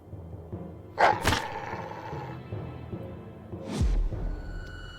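Dog barking in the World War II shooter video game Warsaw Rising, with two loud, rough barks about three seconds apart over low background ambience.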